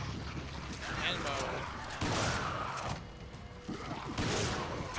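Shotgun blasts from the video game Resident Evil 5, roughly three heavy booming shots spaced about a second apart amid dense game noise, with a voice talking over them.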